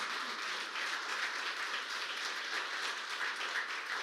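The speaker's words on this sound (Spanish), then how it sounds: "Un aplauso a los hermanos, por favor." Church congregation applauding, a soft, even wash of many hands clapping heard from a distance, continuous and without breaks.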